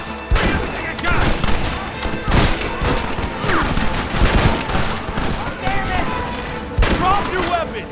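Gunfire in the video game Red Dead Redemption, a dense fusillade of overlapping shots and cracks, loud and continuous, with voices shouting over the shooting.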